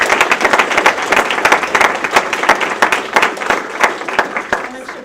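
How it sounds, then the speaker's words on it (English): A crowd claps steadily, a dense patter of many hands filling the room with applause for several seconds. "give them a nice little round of applause"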